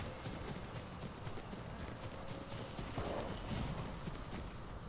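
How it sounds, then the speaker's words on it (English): A horse gallops past in the samurai video game Ghost of Tsushima, its hoofbeats a steady clatter set against constant outdoor wind and game ambience. "Your horse ran by you, bro."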